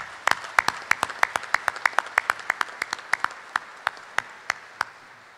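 Applause from the audience at a military sword ceremony: sparse, evenly spaced claps from a few hands, ringing out clearly in a quiet hall and thinning toward the end.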